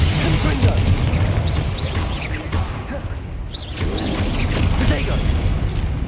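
Confringo fire-spell blasts in Hogwarts Legacy hit during a busy fight: dense, loud rumbling booms and crashes mixed with whooshes and mechanical clatter, continuous and near, with no speech.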